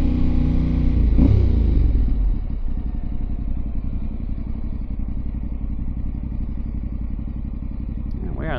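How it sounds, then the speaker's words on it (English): A motorcycle on the Tail of the Dragon mountain road, ridden two-up, with a loud low engine rumble that swells around the first two seconds and then holds a steady drone as it carries on. "Motorcycle here."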